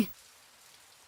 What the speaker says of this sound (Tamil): மழை வேற பின்னுதே.